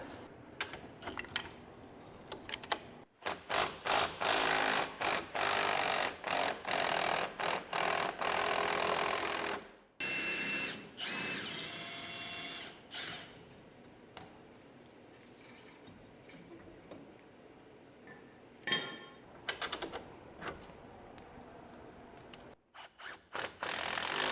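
Power tool work on a Can-Am Defender's bracket bolts, with long loud bursts of whirring, ratcheting mechanical noise broken by short pauses and quieter clicks, up close and without speech.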